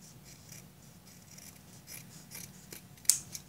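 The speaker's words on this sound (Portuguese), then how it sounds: "Agora, eu vou tirar esse excesso do tecido bem junto aqui da manta." Scissors trim excess fabric close to a quilted backing while sewing a fabric vaccination-card cover, giving quiet, faint snipping with a sharper cut near the end.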